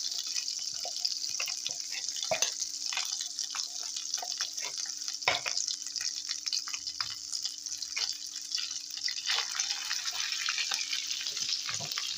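Tomato paste frying in a pan, a steady soft sizzle with occasional stirring scrapes and clicks throughout, close and alone with no voices.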